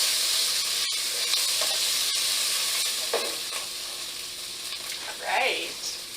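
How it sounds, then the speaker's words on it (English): Shallot and onion sizzling in a pan for French onion soup, a continuous bright hiss with a few clicks and scraping stirs, close and steady. "Get our shallot and onion mixed in there."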